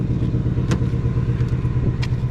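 The 5.0 V8 of a 2019 Ford Mustang GT Fastback rumbles steadily and close while cruising, a deep, even engine drone with a few faint clicks on top.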